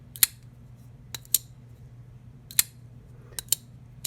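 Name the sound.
folding knife snapping closed, titanium versus aluminum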